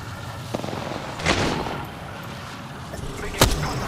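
Gunfire in the game Apex Legends during a ranked Arena match, with a few scattered sharp shots and a louder crack near the end over a busy battle background.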